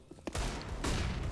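Gunfire from a hand cannon pistol in a Counter-Strike match on Inferno, a couple of sharp shots followed by a loud, dense burst of firing that continues to the end.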